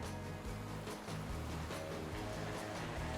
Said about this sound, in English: The size of the waves hitting the headlands kept us busy watching them for ages.